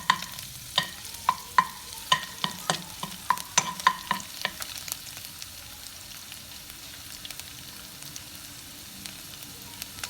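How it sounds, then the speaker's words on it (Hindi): Garlic and ginger sautéing in a pan for a chicken vegetable bread roll filling, with a run of sharp spoon-against-pan stirring clicks in the first half over a steady soft sizzle that carries on alone afterward. "गार्लिक और लहसुन और अदरक डालेंगे और इसे थोड़ा सा सौटे करेंगे"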